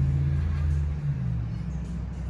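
Heavy traffic rumble from a bus stop right beside someone filling holes in a line outdoors, a steady low engine drone that stays loud and close throughout.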